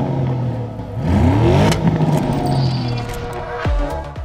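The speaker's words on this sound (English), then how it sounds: "The Cayenne GTS comes with a specifically attuned sport exhaust system fitted as standard." A 2021 Porsche Cayenne GTS engine revs loudly through its standard sport exhaust with lateral tailpipes, rising and falling twice in quick swells over a steady rumble.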